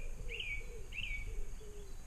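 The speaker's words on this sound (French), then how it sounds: "Vous entendez les pigeons," Pigeons and other birds call outdoors in a quiet spot with no traffic, two bright repeated chirps over lower cooing notes, moderately near against a soft ambient hum.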